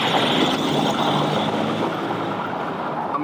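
A Land Rover Discovery 3 (LR3) on a test drive after an EGR fix, heard from inside as a loud, continuous broadband road and engine rumble that holds steady throughout without voices.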